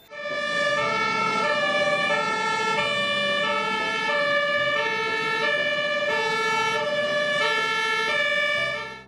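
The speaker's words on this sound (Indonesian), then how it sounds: "lihat teman-teman di sini ada mobil water cannon" A toy water cannon truck sounds a steady electronic siren, a loud, near, repeating two-tone wail that cycles evenly for several seconds before cutting off.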